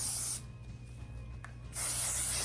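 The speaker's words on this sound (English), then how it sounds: "go ahead and spritz it with just a little bit more hairspray" A hairspray can gives a short, close hiss onto hair, a sharp pressurized spritz lasting under half a second, framed by stronger bursts of spray before and after a quieter pause.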